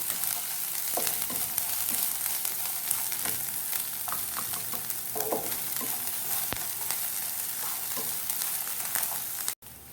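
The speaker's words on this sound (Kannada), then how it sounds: "ಸ್ವಲ್ಪ ಫ್ರೈ ಮಾಡಿ, ಅಂದರೆ ಈರುಳ್ಳಿ ಟ್ರಾನ್ಸ್ಪರೆಂಟ್ ಆಗಬೇಕು, ಅಲ್ಲಿವರೆಗೂ ನೀವು ಇದನ್ನು ಫ್ರೈ ಮಾಡಿಕೊಳ್ಳಿ." Chopped onions for paniyaram fry in a pan with a continuous, close, bright sizzle, broken by occasional scrapes and clinks of stirring. No one speaks.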